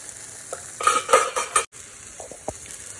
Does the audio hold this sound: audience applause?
no